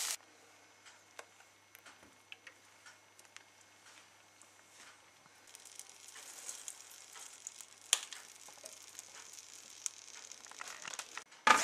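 Onion and ginger charring on direct heat for a chicken and bamboo soup, giving a faint, steady crackling sizzle with scattered small pops that thicken toward the end, no voices.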